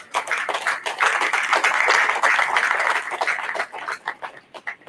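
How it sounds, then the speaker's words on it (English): A conference audience claps together in a loud, close burst of applause that holds for several seconds, then breaks into scattered individual claps before fading. "Let's recognize all these people and institutions with a round of applause."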